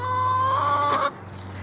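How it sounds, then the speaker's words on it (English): Backyard hens cluck and warble steadily over fresh weeds tossed to them, close and fairly loud, with a constant low hum underneath and the clucking cutting off near the end. "she's gonna take them to the chickens because that makes for very, very happy chickens"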